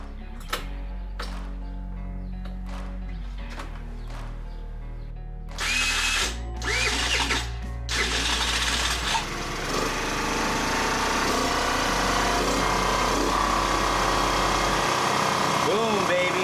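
A restored Tomos Nitro 50 scooter has its small engine cranked with a few short mechanical bursts before it catches. It then settles into a loud, buzzing high-pitched idle close by that runs on steadily.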